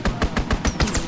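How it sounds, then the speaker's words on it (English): Aircraft strafing run in Call of Duty WWII, a rapid burst of about six heavy gunshots in quick, even succession, loud and close with no talk over it. "Fighter pilot inbound, strafing the target"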